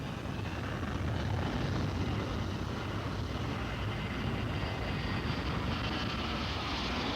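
An Air Canada DC-9 jet taking off from Boston, a continuous, distant, low engine roar that holds steady throughout, fairly faint and without voices.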